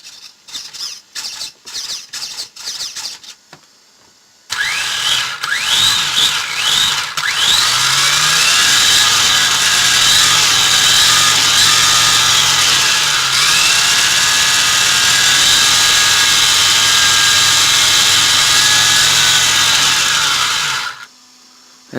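A brushless motor in an RC manta ray spins up with a loud, steady electric whine that holds for about fifteen seconds, after short clicking bursts at the start.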